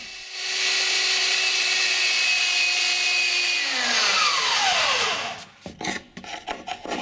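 A steady, close abrasive whirr of sanding wood that holds for several seconds, winds down with a falling pitch, then gives way to short scraping rubs.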